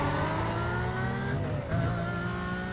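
Lamborghini engine in a racing video game, a loud sustained drone with a brief dip before it picks up again, with no talk over it.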